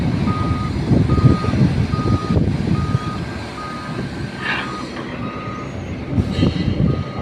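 A big boom truck at a commuter railway construction site in Santa Rosa, Laguna, with steady reversing beeps pulsing evenly over a loud diesel engine rumble, plus a couple of brief hissing air-brake releases, no talk.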